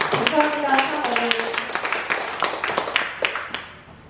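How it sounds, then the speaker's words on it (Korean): A church congregation at a Sunday service in Bundang claps in thanks and glory for the Holy Mother. A voice speaks first, then scattered hand claps build into loose, uneven applause that thins out toward the end. "큰 감사와 영광의 박수를 올려주시면 감사하겠습니다"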